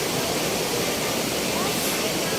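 A strong river current rushes at a riverside camp, a loud, steady broadband roar heard close by, with voices faintly under it.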